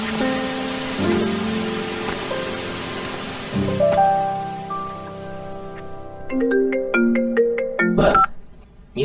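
A phone ringtone plays a repeating melodic tune over about nine seconds, loud and close, with the notes shifting pitch in phrases, no voice heard and the call left unanswered.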